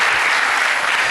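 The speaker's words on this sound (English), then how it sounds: "Big round of applause once again." Steady, dense applause from a symposium audience in a hall, loud and continuous for a brief moment with no pause.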